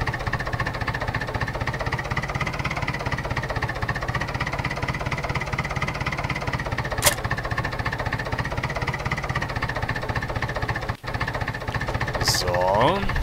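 Old tractor engine in the Farming Simulator 2011 video game runs steadily with a continuous chugging drone, close and constant throughout, broken only by a couple of brief clicks.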